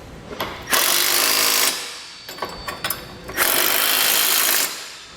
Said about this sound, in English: The larger ones that we've got down here, we'll switch to a 19mm socket and wrench for those.